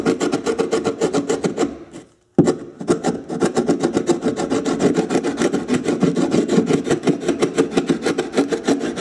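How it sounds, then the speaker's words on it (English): A chisel scrapes brittle old tile adhesive off a countertop in a fast run of rough, rasping strokes, with one brief pause before the scraping starts again, loud and close. "the best way to remove this particular tile adhesive is to use a chisel to scrape it away because it's fairly brittle"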